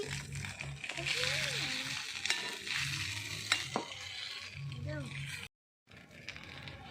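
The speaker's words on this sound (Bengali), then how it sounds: "এবার আমি ভালো করে নেড়ে চেড়ে নিচ্ছি" Pasta with egg and vegetables being stirred in a pan in a mini kitchen. Steady scraping and light sizzling run throughout, with a faint voice or music in the background and a brief dropout near the end.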